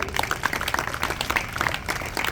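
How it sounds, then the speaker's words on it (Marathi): An audience applauds a writer at a Marathi literary gathering, a dense, even patter of many hands clapping at moderate distance, continuous and fairly soft throughout. "पुन्हा एकदा आपण टाळ्या वाजवून कौतुक करूया"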